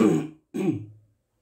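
Two short, rough throat clearings in quick succession, close and distinct, followed by silence.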